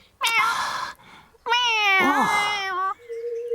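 A cartoon cat, an alien cat man in the Postman Pat animated series, gives two loud, drawn-out meows in quick succession, the second rising and falling in pitch, with a faint tone lingering after.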